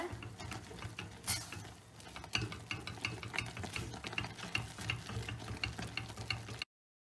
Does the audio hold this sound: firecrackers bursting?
no